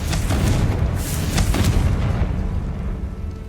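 Confringo fire spell blasting in Hogwarts Legacy, heavy booming explosions with deep rumble and a few sharp bursts, loud and close, rolling on through the whole moment.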